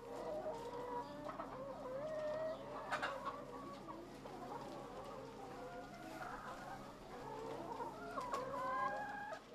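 Chickens in a floor-housing barn cluck and squawk continuously, a dense flock chorus with occasional louder calls and a distant crow-like cry, steady and moderately close over a low barn hum.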